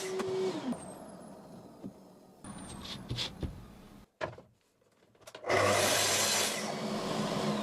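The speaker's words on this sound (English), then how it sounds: "with the saw still set to the same depth, making repeat cuts on each side until the groove is the right thickness for the base" Track saw making repeated groove cuts along wood, set to a fixed depth, with a loud sustained broadband cutting whine near the end after a short quiet gap, and earlier intermittent handling and cutting noises.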